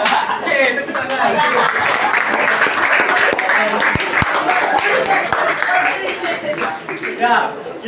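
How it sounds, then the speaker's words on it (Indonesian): A school class claps after a student's presentation during a teaching exam on anecdote texts. Loud, sustained clapping fills the room, with scattered sharp individual claps, some chuckling, and voices mixed in. "Oke, tepuk tangan."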